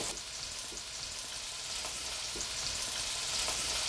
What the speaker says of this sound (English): it didn't take long for that to boil up